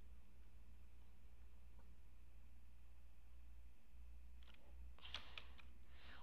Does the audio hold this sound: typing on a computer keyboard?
yes